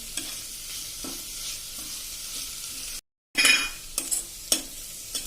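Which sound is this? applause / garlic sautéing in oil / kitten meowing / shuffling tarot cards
garlic sautéing in oil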